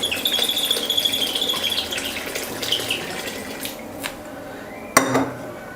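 A ladle stirs and scrapes around a pot of hotel-style sambar with water added, giving rough rubbing and clinking metal sounds, then a sharp knock near the end, all close and fairly steady.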